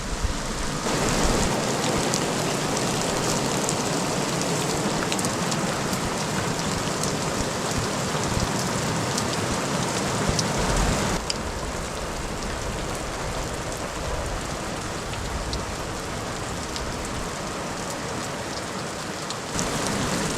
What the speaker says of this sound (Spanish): menudo festival de trueno, de relámpago y lluvia muy fuerte